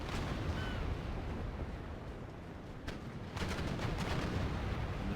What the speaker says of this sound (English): the first salvos are now being shot from the fifth rates of the new Spanish Navy